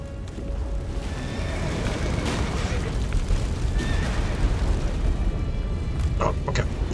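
A horse whinnies in a video game amid a loud, continuous game soundscape with rumbling effects and occasional clip-clop, with voices present throughout.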